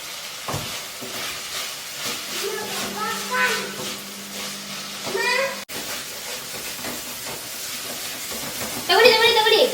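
Lentils sizzle and fry in hot oil in a home kitchen pan, a steady soft hiss with a few louder crackling bursts as they are stirred. People talk over the cooking throughout.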